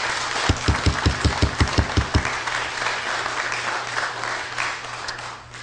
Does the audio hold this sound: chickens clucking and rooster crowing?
no